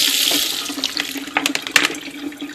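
Tap water runs into a sink over black beans being rinsed, a steady close splash with brief spattering bursts as the beans are moved under the stream.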